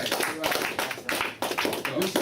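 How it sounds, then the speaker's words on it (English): A small group claps together in a room for a newly hired member, a short uneven burst of hand claps close by, with voices talking over it. "Give him a big round of applause."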